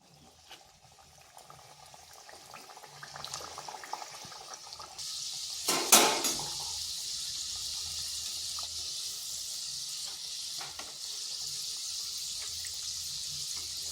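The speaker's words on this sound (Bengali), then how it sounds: "এখানে তেল বসিয়েছি, এরপর ভেজে নেব" Coconut-filled snacks dropped into hot oil, starting from quiet and swelling into a loud bubbling sizzle after a brief splash, then holding a steady frying hiss close by.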